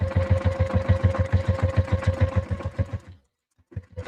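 A sewing machine runs fast and close while basting a pocket lining, a steady mechanical chatter with a humming tone for about three seconds, then stops, with a short burst of movement near the end.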